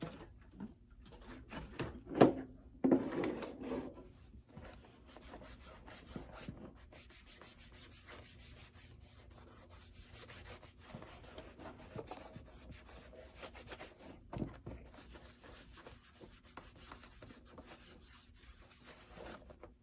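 Cloth rubbing over a new Allen Edmonds leather shoe to strip off wax, a faint, steady scrubbing rasp lasting the whole stretch, with a few louder strokes near the start.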